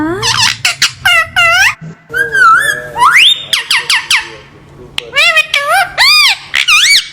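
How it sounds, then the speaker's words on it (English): Shrill squawks and whistling chirps tumble in quick, bouncy bursts, loud and close, with a few short gaps between runs. "Parrot sounds."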